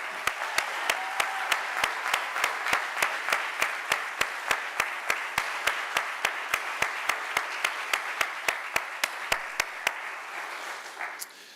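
Applause at an awards ceremony, a dense crowd wash of clapping cut by evenly spaced sharp beats that sound like a rhythmic track, fading out near the end.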